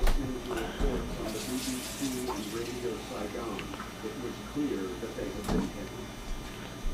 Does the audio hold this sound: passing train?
no